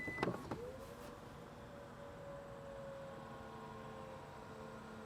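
The power tailgate on a Genesis Electrified GV70 opens: a couple of sharp latch clicks, then a soft, steady electric motor whine that hums evenly for several seconds as the hatch rises. The sound is faint and close, with no talking.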